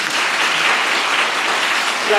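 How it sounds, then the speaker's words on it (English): Audience applause at a speaker event in Plymouth, a dense, steady wash of many hands clapping that stays loud and even from start to finish. "we should give Dave and everybody who set this up a really big round of applause"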